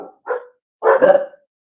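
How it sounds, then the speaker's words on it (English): A dog barks indoors in two bursts, a short bark followed by a longer, louder one, close to the listener with silence between. "You can go outside and bark all you want."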